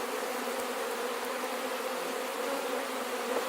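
Dense, steady buzzing of many honey bees swarming around an opened hive, loud and close, a continuous drone with no voices.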